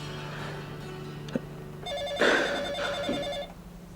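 An electronic telephone ringtone trills in a rapid warbling pattern, preceded by a steady tone and a sharp click, clear and fairly loud in a quiet room.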